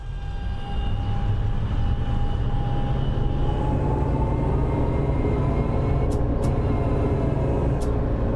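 Tram in City Transport Simulator pulling away from a stop, a low electric motor hum and rolling rumble building up steadily with a faint rising whine and a few light clicks, no talking.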